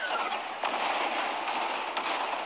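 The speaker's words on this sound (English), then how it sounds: "Fire missile on him." Missile launch in the Titanfall Assault video game: a dense, steady broadband rush with two brief bursts, heard alone at moderate level.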